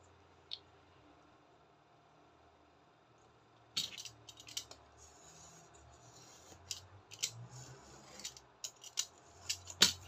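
Scissors snip through paper during a craft project, close and quiet, with a series of crisp cuts and small clicks following a near-silent opening.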